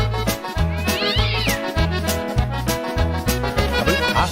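A meowing cat is heard within a Scottish folk song, the calls rising and falling over a driving, loud band with a steady bass beat.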